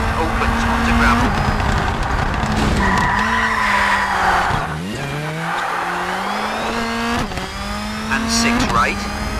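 A rally car in the Colin McRae Rally 3 video game skids and revs on a gravel stage, loud engine whine with tyre scrabbling and gear changes, as a co-driver reads out pace notes over it.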